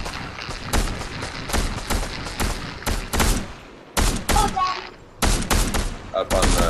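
Video game gunfire during a squad match: repeated loud close bursts of shots and rapid fire in clusters, with short gaps between them and a few booming impacts.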